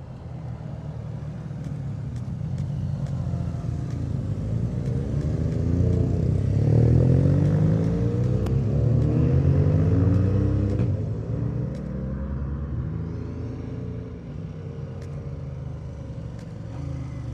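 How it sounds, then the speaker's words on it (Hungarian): Motorcycles climb and pass on the Stelvio Pass mountain road, their engines a loud, sustained rumble that swells and sweeps in pitch as the bikes go by, then eases off, with no voices heard. "Persze, hogy jönnek, azonnal jönnek a motorok."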